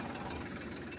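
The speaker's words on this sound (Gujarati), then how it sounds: "તો જો આપણે ફાઇનલી મિત્રો ટ્રેક્ટર આવી ગયું છે ક્ષેત્રમાં" A tractor engine runs in a farm field ready for peanut sowing, producing a steady, rapid knocking chug at moderate volume with no voices over it.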